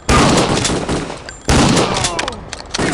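Shotgun blasts in the video game Kingpin: Life of Crime, two heavy, punchy shots about a second and a half apart, each with a booming decay, and a third starting near the end, loud and close with no talk.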